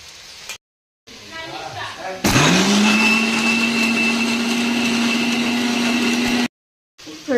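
A kitchen mixer grinder jar blends fried ingredients: a motor whine starts abruptly, holds a steady loud grinding drone for about four seconds, then cuts off, with brief kitchen sounds before and after.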